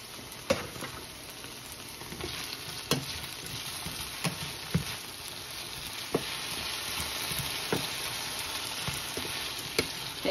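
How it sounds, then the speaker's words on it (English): Bacon and potatoes fry in a pan for a home-cooked Maine farm breakfast, giving a steady close sizzle broken by sharp pops and the odd utensil tap. "Bacon's in, potatoes are going."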